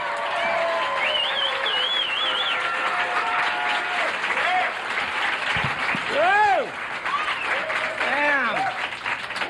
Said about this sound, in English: Let's hear it for Terry Dad right here.